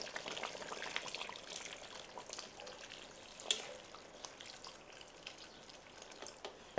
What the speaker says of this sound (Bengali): এবার আমি এতে পরিমাণ মতো জল দিয়ে দেব।